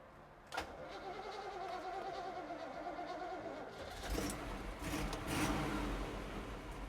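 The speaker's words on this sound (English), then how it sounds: "Why don't you go ahead and listen to it start up." A 1964 Chevrolet Impala SS engine cranks and fires, with a sharp click and then a low rumble that swells as it catches and settles into a steady idle, heard close and fairly quiet.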